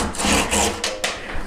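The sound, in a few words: hand saw sawing off wooden joint ends on gate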